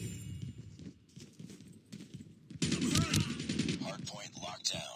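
Gunfire in Call of Duty: Mobile hardpoint multiplayer, with clipped bursts of automatic shots that get denser and louder in the second half, mixed with game effects and a voice speaking over the action.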